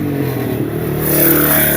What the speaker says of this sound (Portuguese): essas motos com escape aberto é bonito de ver